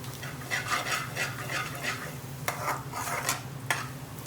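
Cumin and fennel seeds stirred in hot ghee in a pan for pilau rice, giving a steady low sizzle under repeated scraping, rubbing stirs in an uneven rhythm, close and moderately loud, with no talking.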